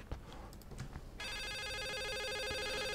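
Telephone ringing inside a house in The Suicide of Rachel Foster video game, a loud continuous electronic ring that starts about a third of the way in and holds steady to the end, preceded by quiet footsteps and room noise.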